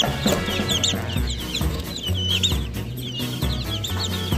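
Araucana chickens clucking in a busy flock, with overlapping chirpy calls and low rhythmic clucks repeating throughout, fairly close by.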